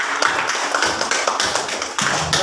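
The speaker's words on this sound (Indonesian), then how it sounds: "beri aplaus dulu untuk kelompok" A classroom group gets applause, a short burst of fairly close, brisk clapping from several people, steady and uneven, with no talking.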